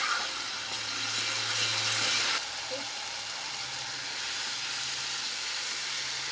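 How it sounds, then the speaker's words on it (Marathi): A paste of ground ginger, garlic, green chili and coriander frying in hot oil, giving a steady broadband sizzle and hiss that continues throughout, louder in the first couple of seconds, with no talk. "अद्रक लसूण मिरची कोथिंबीर हे वाटलेलं वाटण आहे चांगली परतून घेऊया अगोदर"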